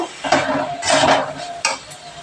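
Pointed gourd (potol) pieces stirred and fried in a pan, with scraping utensil strokes and a steady sizzle rising in a few louder bursts, close and alone.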